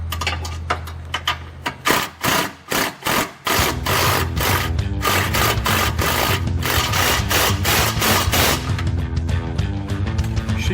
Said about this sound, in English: That's fun getting the wrench in there.